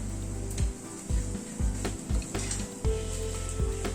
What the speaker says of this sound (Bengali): আলুটাকে দিয়ে ভালো মতো একটু কষিয়ে নিলাম।